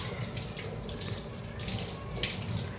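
Tap water runs steadily into a kitchen sink while dishes are washed, a continuous, fairly soft splashing stream with no talking.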